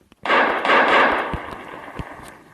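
A loud revolver gunshot in Minecraft Pocket Edition with a weapons mod, a blast with a long noisy decay, followed by a few faint clicks and thumps; no one speaks.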